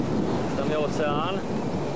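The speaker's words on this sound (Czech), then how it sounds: "Tam je oceán." Wind and ocean surf roar steadily outdoors by the sea, buffeting the microphone, while a person's voice briefly sounds over the constant wash.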